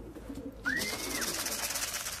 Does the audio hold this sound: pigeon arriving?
yes